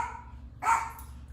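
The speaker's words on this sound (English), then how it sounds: "sorry about my dogs. They're just crazy." A pet dog at home lets out one sharp, fairly close bark over a low steady background hum.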